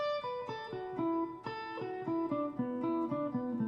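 Guitar notes step downward in repeated five-note groupings, a clean, steady run of plucked tones that rings out close and fairly soft with no talking.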